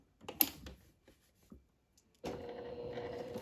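A sewing machine starts up after some quiet handling clicks, running a steady whirring stitch along a curved seam on a fabric shorts piece, close and moderately loud, with no talking.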